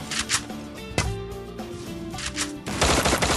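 Rapid gunfire in the Free Fire battle game, close and loud, with clustered bursts of shots that thicken into continuous firing at the end.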